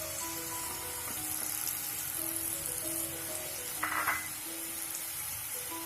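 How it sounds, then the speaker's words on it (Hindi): Onion, carrot and green capsicum sizzle in hot oil as they fry, a steady crackling hiss with a brief spoon scrape partway through. "सब्जियों को हमें अच्छे से फ्राई कर लेना है।"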